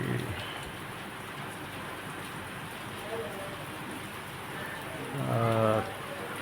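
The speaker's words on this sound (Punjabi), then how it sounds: "ਆਪਣੇ ਤਾਂ ਪੈ ਰਿਹਾ ਅੱਜ ਮੀਂਹ" Steady morning rain falls around 6:30 in a Punjabi farming setting, a continuous wash of drops on surfaces with a brief louder patch near the end where a voice briefly sounds.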